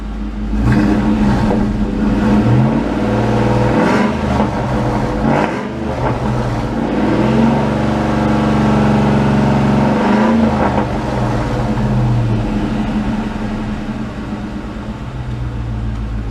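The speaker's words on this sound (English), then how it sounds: "Give me a couple revs from the side view here." A 2001 Ford Mustang Bullitt V8 fitted with a JBA H-pipe and stock mufflers idles with a deep rumble, then revs several times in loud close bursts before settling back to idle.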